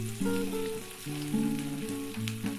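Chopped onions and mustard seeds fry in hot oil in a kadai with a steady close sizzle and small pops under a sustained tonal hum.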